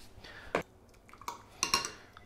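A spoon clinks against a bowl while stirring a hot beef jerky marinade sweetened with honey, a few sharp scattered clinks and scrapes over a quiet background.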